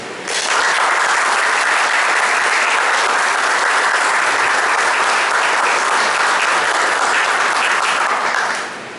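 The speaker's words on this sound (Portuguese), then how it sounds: "Então a primeira providência aqui hoje é uma salva de palmas para esse conjunto que mantém e valoriza essa história." A hall audience at a lecture about the FEB breaks into sustained, loud applause that swells quickly and holds steady for several seconds before tapering at the end.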